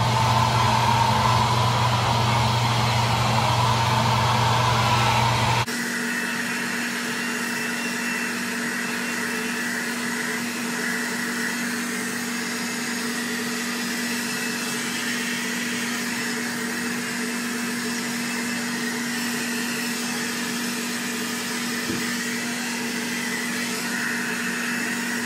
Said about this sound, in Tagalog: Tapos na po tayo mag-hair dryer.